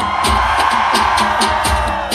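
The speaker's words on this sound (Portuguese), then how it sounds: "Cadê o grito da galera nota 10?" Festival crowd at a country music fair in Juiz de Fora, Brazil, cheering and shouting together on cue, a dense, sustained roar of many voices with rhythmic whoops rising throughout.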